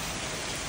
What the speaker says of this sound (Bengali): খুবই মজার বৃষ্টি, ভালো লাগতেছে।